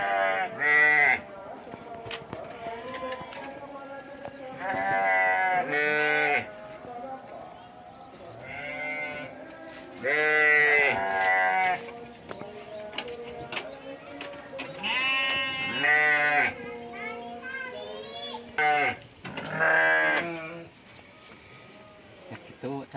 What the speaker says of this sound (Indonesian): Jalan-jalan sambil moeken domba.